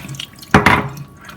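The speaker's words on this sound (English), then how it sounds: "Now I'm going to simply drain it" Soaked lentils being drained, giving a brief, loud splash and gush of water that lasts about a quarter second before fading to quiet dripping.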